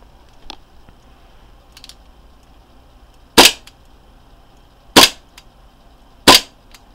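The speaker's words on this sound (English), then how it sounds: "I guess I could shoot it right now" An airsoft pistol with a modified magazine fires three sharp, loud cracks spaced about a second and a half apart, each short and close, with faint clicks and handling noise in the quiet between shots.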